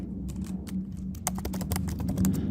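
Rapid, uneven clatter of keys as text is typed on a computer keyboard, heard close up and alone, with dense bursts of strokes throughout.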